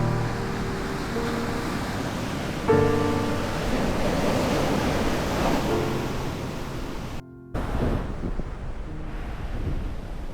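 Surf rolls and breaks steadily along a beach with waves suited to surfing, a broad continuous wash of noise roughened by heavy wind buffeting the microphone, with a brief dropout partway through.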